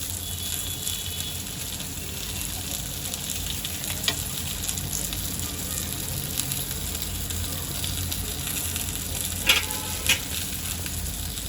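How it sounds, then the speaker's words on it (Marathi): Halwa fish fries in hot oil, Agri Koli style, as an even crackling sizzle runs throughout with a few sharp spatters and utensil clicks and no voices. "सर्व बाजूनी मी तळून घेणार आहे आलटी पलटी मारून"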